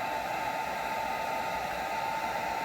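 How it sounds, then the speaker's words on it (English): A heat gun blows hot air onto a plastic action figure to soften it, a steady even roar of fan and airflow held constant without pauses. "I went and bought my heat gun here. So you wanna warm this up"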